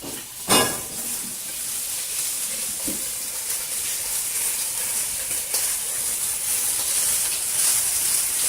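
Meat for ramen sizzles steadily in a hot pan, a continuous bright hiss that stays fairly loud throughout, marked by a sharp clatter near the start and a few fainter knocks.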